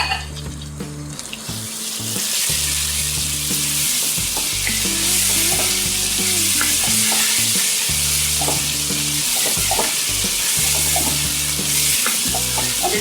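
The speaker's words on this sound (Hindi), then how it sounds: "अब इसको हम 2 से 3 मिनट तक फ्राई करेंगे।" Chopped tomatoes and garam masala frying in a pan for goat trotter paya, a loud, close, continuous sizzle with rhythmic stirring and scraping of the pan throughout.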